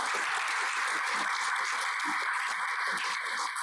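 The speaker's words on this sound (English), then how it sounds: "Can you please give a round of applause?" A panel audience gives a round of applause, a steady dense wash of many hands clapping that holds evenly throughout at moderate loudness with no voices over it.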